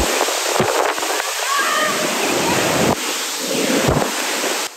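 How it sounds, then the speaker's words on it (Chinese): Violent wind and rain from Typhoon Saola lash Hong Kong, roaring gusts buffeting the microphone in loud, surging waves, with a few sharp thumps and a faint voice briefly heard amid the storm. "狂风暴雨就降临。"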